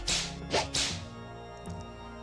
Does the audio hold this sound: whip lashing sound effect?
yes